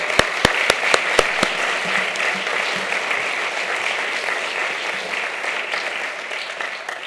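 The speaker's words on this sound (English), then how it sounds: "a round of applause for all of our faculty achievements" Audience applause at a fall faculty conference honoring faculty achievements, a few sharp distinct claps at first, then dense sustained clapping from a roomful of people.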